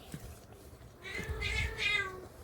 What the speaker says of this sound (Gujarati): લે મીંદડી બોલે છે મ્યાવ મ્યાવ મ્યાવ